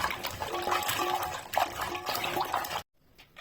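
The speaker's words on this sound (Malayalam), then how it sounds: "നല്ലതുപോലെ ചിരണ്ടി എടുത്ത ചക്കക്കുരു കഴുകി വൃത്തിയാക്കി എടുക്കാം" Scraped jackfruit seeds are washed in water, giving a close splashing, sloshing rush that runs steadily for nearly three seconds, then cuts off abruptly to near silence with a few faint drips.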